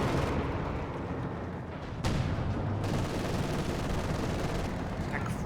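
A Pak 40 anti-tank gun fires at a ZiS gun in a Company of Heroes 2 match: a single sharp, heavy blast cracks out midway through a constant rumble of distant battlefield fire.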